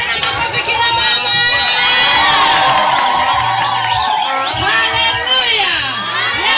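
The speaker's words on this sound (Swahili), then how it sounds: "Jamani, makofi na vigelegele tena." A crowd at a Maasai wedding cheers, claps and ululates loudly, with high wavering trills from several women rising over continuous shouting and applause close by.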